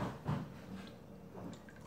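Beef broth pours into a meatball stew with marinara sauce, giving short, quiet liquid splashes and drips close by.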